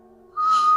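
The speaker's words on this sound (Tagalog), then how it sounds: "Ang kakaibang nilalang na yun, sumisipol siya habang papalapit sa akin." Eerie whistle of a strange creature approaching in a Filipino aswang horror story, a thin steady tone that suddenly swells loud and sustained after a low hum.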